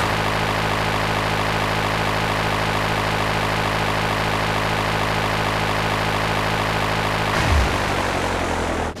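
A Dodo propeller plane flying in a video game, a steady, loud, droning engine and propeller hum that holds unchanged for several seconds before a brief shift near the end.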